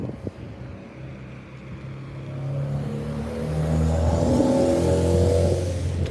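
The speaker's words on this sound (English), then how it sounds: "I don't know if he was a gang stalker, but he was driving right by me loudly" A loud black car drives close past on a city street, its engine note swelling steadily as it approaches and grows louder toward the end, with wind buffeting the microphone and no talk.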